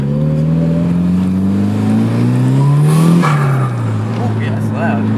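Mitsubishi Evo 7 rally car with a pod filter revs loudly, engine pitch climbing steadily to a peak then dropping back, close by, with people talking over it.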